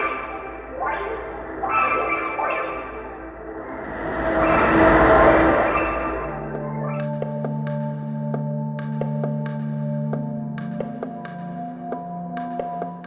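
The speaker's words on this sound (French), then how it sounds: "C'est le son d'un trou noir." A sonification of a black hole rendered as synthetic sound: gliding tones slide and overlap, a swelling whoosh rises and fades, then low sustained drones settle in under scattered bright pings.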